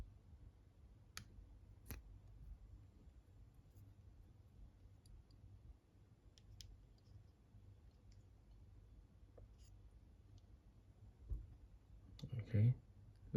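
Blades cut plastic Gunpla parts at a low-cost model-building workbench, giving faint, crisp, isolated clicks and snips spaced several seconds apart against a quiet background, with a slightly busier handling noise near the end.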